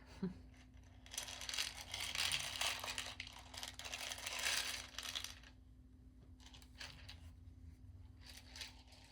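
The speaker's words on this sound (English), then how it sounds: "listening to the sound of the buttons on the glass and on the tin top" Loose buttons clatter and clink against a glass jar and a tin lid in bursts of close, crisp rattling, with a pause and a few lighter rattles after.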